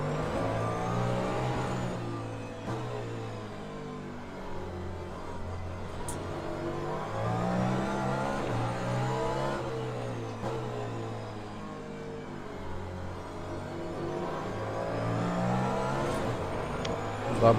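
A Cadillac hypercar engine in the racing game Le Mans Ultimate revs hard and upshifts repeatedly, its pitch climbing and dropping with each gear change, loud and continuous throughout.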